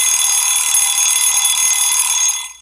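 A timer alarm rings loudly and continuously with a bright, buzzy electronic tone for over two seconds, then cuts off abruptly. No voices are heard.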